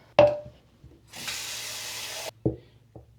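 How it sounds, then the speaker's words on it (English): Water runs from a sink tap into a plant pot for about a second, a steady hiss framed by a few sharp knocks and clunks of the pot being handled. "I could fill this up with water"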